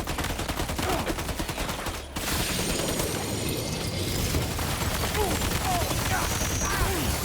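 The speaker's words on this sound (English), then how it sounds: "he's got like grenade things, fireworks flying from the sky" Explosions and rapid bursts crackle almost without pause in the Death Stranding 2 game as grenade-like projectiles and fireworks rain from the sky, loud and dense, with one short break midway.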